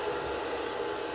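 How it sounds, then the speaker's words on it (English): A blow dryer runs steadily while drying hair with a round brush, a constant airy whir with slight fluctuations, close and alone without talk. "with a round brush and a blow dryer"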